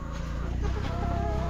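Laying hens clucking on a Thai egg farm at feeding time, a continuous close chorus of low clucks and murmurs over a steady background hum, without clear speech.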